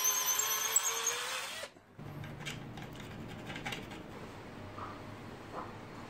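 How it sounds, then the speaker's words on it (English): A drill bores a hole in an antenna tube while a balcony vertical dipole VHF antenna is being built, giving a loud high-pitched whine for under two seconds. It then cuts off, leaving faint handling and tapping noises. "I'm using masking tape so that I don't drill too far"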